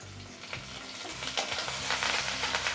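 Garlic and curry leaves sizzle and crackle steadily frying in oil, growing louder with stirring partway through.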